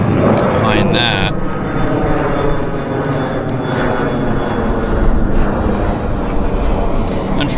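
Airplane at Vancouver YVR airport, heard as a loud, continuous engine roar that holds steady throughout, with a person talking over it.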